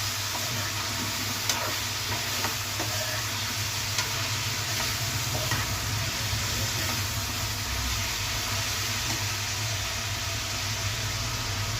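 Broad beans and tomato curry with ginger paste fry in a pan under a steady, even sizzle, with occasional faint scrapes of stirring over nearly twelve seconds and no talk.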